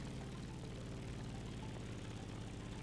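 Propeller airplane in the racing video game The Crew Motorfest, set on a Hawaii map, droning steadily and loudly through the whole stretch with a constant engine hum and no talk.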